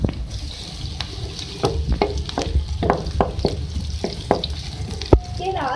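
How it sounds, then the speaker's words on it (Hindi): Chopped garlic hitting hot oil in a pan while being stirred: a steady close sizzle and crackle lasting throughout, with scattered utensil scrapes and clicks and one sharper knock near the end. "सबसे पहले हम ऑयल में ऐड करेंगे चॉप हमारे पास लहसुन है"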